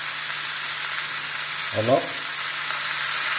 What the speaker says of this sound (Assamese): এতিয়া এইখিনি অকণমান ভাজিব লাগিব